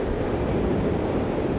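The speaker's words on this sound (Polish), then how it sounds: "Jak ja lubię te fale rozbijające się o tą skałę." Waves crash against a rock on a beach in a continuous, loud, broadband wash of surf with no breaks, close and unaccompanied by voices.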